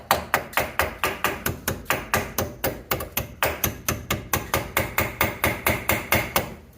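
A hammer taps a pin into a Brembo brake caliper on a Focus ST in a steady, even rhythm, around thirty sharp metallic blows in quick succession, close and loud with no talking.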